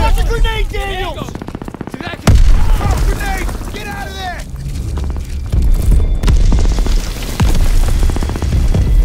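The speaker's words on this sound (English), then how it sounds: "Daniels, get a grenade in that bunker!" A heavy grenade blast and gunfire in the World War II shooter game Call of Duty WWII, one loud boom cutting in under almost constant shouted voices, with the battle noise rumbling on after it.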